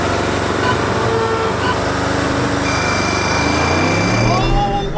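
A used Porsche Cayenne Turbo and a new Tesla Model X launch side by side in a drag race, giving a loud, rising engine roar with whining tones as the cars accelerate hard, while people talk throughout.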